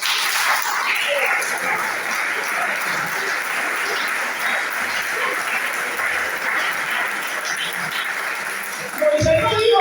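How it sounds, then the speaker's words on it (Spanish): A church congregation applauds during a Spanish-language sermon, a steady, dense roar of clapping from a large crowd that holds throughout, with a voice breaking in near the end. "Denle un aplauso al Señor"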